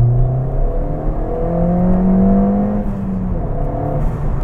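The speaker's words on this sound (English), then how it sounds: "I can really hear the induction noise" A Ford Fiesta ST MK7 fitted with an induction kit accelerating, its engine note rising and falling in pitch through gears with a prominent intake whoosh, heard from inside the car.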